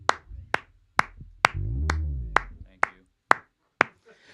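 Slow, evenly spaced hand claps, about nine sharp, close strikes with a low hum swelling briefly in the middle, sparse and fairly quiet.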